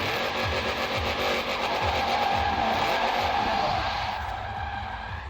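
A Shelby 1000 in Forza Horizon 4 drifts with its engine droning loud and steady, pitch rising and falling as it shifts into second gear. Tires hiss throughout, and the engine eases off near the end.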